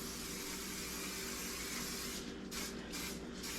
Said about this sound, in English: So I'm just going to spray it with some cooking spray.